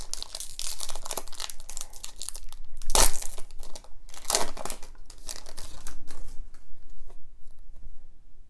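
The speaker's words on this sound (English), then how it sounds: "Just moving some cards around on the side there." Hockey trading cards from a 2018-19 Upper Deck MVP blaster box shuffled and slid around, giving continuous close crinkling and rustling with a sharper burst of handling partway through, and no talk over it.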